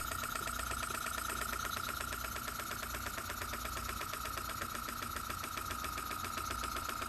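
A single-cylinder, single-acting, spool-valve horizontal steam engine of Rudy Kouhoupt design runs with its flywheel unfinished, giving a quiet, fast, steady mechanical chuffing rhythm throughout with no talking.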